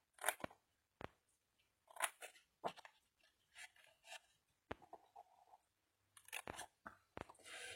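Small scissors snip in short, crisp bursts, several cuts spaced irregularly, close up and quiet with silence between them.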